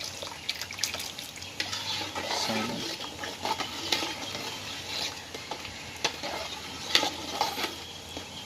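Mung bean pudding batter stirred over low heat in a pot, with continuous scraping and sloshing strokes and soft bubbling, close and fairly loud, no talking.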